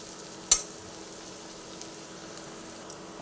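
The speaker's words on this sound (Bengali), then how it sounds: "পেঁয়াজ রসুন দুটোই ভেজে নিচ্ছি।" Onion and garlic frying in a pan give a faint, steady sizzle throughout, with one sharp clink of a utensil near the start and a couple of softer taps later.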